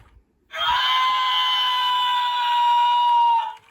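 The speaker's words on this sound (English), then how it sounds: "I got to hunt around for the thing that makes them scream." A Five Nights at Freddy's chicken plush toy lets out a loud, sustained electronic scream lasting about three seconds, shrill and close, then cuts off abruptly.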